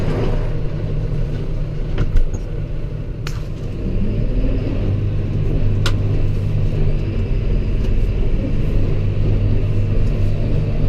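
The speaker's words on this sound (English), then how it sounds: "turning the baler on for the last few times this year" A hay baler running in a field during the year's last hay cutting, a steady loud low mechanical rumble and drone that carries on without a break, with a few brief clanks over the top.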